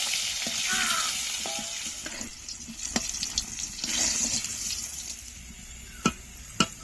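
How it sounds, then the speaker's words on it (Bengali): Potatoes seasoned with a little salt and turmeric fry in hot oil, giving a continuous close sizzle with occasional sharp clinks and scrapes of a spatula against the pan. "আলুগুলো লাল লাল করে ভেজে নেব।"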